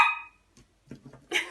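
A dog barking, a few short, sharp barks close by in an otherwise quiet room, with gaps of silence between them.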